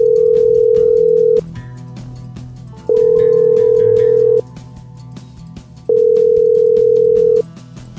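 Telephone dial tone at the start of a call, three steady loud tone bursts each about a second and a half long, separated by quieter gaps with faint background noise.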